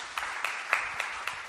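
A church congregation applauds for Jesus during a sermon, a soft, fairly distant wash of clapping with a few louder individual claps standing out.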